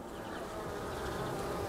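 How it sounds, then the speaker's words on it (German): Bees buzzing at a beehive, a dense continuous drone of many insects close by, steady and fairly loud with no talking. "irgendwo versucht mich eine Biene zu stechen"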